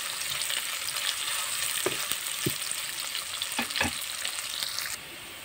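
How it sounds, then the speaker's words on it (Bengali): Chopped onions fry in hot oil in a pan for a desi koi fish curry, a dense steady sizzle with occasional stirring scrapes and knocks, close and fairly loud, cutting off near the end. "পেঁয়াজটা আমি হালকা বাদামি কালার করে ভেজে নিব।"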